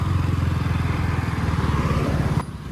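A KTM 200cc four-stroke, single-cylinder, liquid-cooled motorcycle engine chugs at a steady, loud idle with a fast, even thump, close up, before the sound cuts off sharply near the end.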